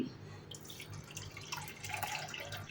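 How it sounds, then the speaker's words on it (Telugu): A second cup of milk poured into a pan of payasam, giving a close liquid trickle with dripping splashes that run for a few seconds and grow slightly louder toward the end, with no voices. "మరొక కప్పు పాలు పోసుకోండి"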